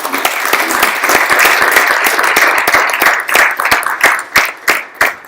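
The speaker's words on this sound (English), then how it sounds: "Round of applause." Audience applause following a presentation at a Catalyst and Fattmerchant event, loud and dense at first, then thinning out into a few separate claps that fade toward the end.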